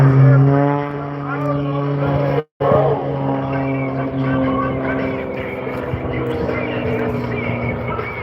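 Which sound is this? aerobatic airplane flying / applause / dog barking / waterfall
aerobatic airplane flying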